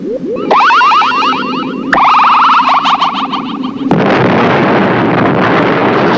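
Explosion destroying an alien vessel in a classic Doctor Who episode, heard as loud warbling synthetic electronic tones that swell and then give way to a sustained, rumbling noise burst.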